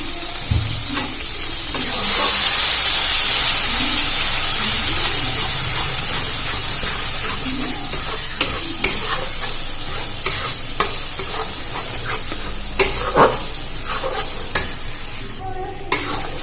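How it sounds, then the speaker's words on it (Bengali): Cashew, ginger and tomato paste hits a hot pan for malai matar paneer, bursting into a loud, continuous sizzle and hiss with repeated stirring scrapes throughout, close and without talk. "এবারে দিয়ে দেব আমি যে কাজু, আদা, টমেটো সব একসাথে বেটে রেখেছিলাম সেই পেস্টটা এর মধ্যে দিয়ে দেব।"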